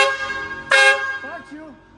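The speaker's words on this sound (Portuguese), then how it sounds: "a buzina" A Chevrolet S10 pickup's horn gives a short honk, followed by a couple of faint, wavering electronic tones as the sound tails off.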